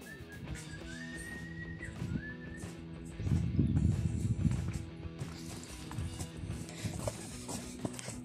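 Horses on a trail ride walking downhill through a hillside forest, with hooves clip-clopping in an uneven rhythm, a brief snort or whinny, and a few whistles, close and moderately loud.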